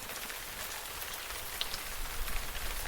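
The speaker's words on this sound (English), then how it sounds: "It's raining." Rain falling steadily on an outdoor surface during an archery elk hunt on public land, a soft, even patter with occasional louder drops, fairly faint and with no talk.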